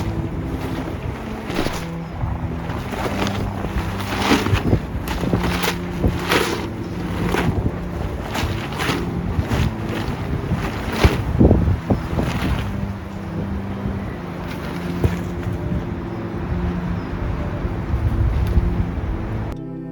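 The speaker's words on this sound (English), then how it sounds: "I was fighting against the wind there" Fierce wind buffets a tarp shelter, a constant loud roar broken by sharp gusts and repeated flapping snaps of fabric, with no voices.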